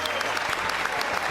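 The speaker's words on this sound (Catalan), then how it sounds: "Un aplaudiment, sí senyor!" Audience applause at a Catalan comedy show, a steady dense clatter of many hands clapping that fills the whole short stretch without a break.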